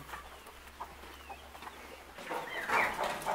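Chickens and other birds cluck softly outdoors on wet grass, faint scattered calls at first, then a louder burst of clucking and squawking near the end.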